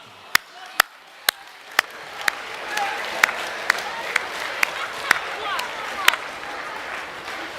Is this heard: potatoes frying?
no